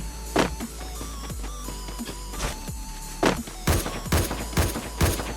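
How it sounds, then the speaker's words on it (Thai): Gunfire in the shooter game Free Fire, several sharp bursts and single shots scattered over a steady engine-like drone, fairly close and loud, with no clear talk over them. "ยิงไรอะยิงไรอะ อ๋อ ยิงนก"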